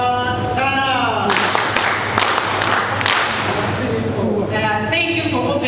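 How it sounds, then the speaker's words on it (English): A crowd applauds steadily at a ceremony honouring family members, broadband clapping filling the space throughout with voices and speech rising over it near the start and end. "Please clap for them."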